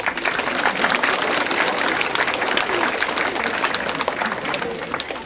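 A school hall audience at a start-of-year ceremony applauds first-year pupils after their presentation, loud sustained clapping that stays dense and even from start to finish.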